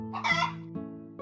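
Chickens cluck in Trails in the Sky the 3rd, a short loud burst followed by a couple of softer clucks, alone and close.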